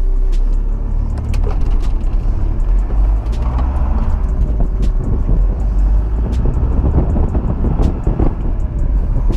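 A VW T4 van pulls away and drives, its engine a loud, steady low drone with road rumble and occasional rattles and clicks from inside the cabin, and no talking.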